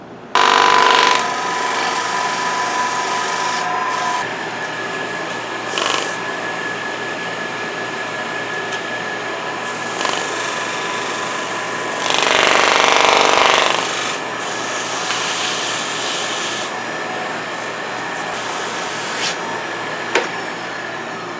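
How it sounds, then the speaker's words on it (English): Sandpaper rubs over a woodturned wooden sushi dish, a steady close rasping that swells louder around the middle and then settles back, with no talking. "So I'll now sand it the same way I did the front."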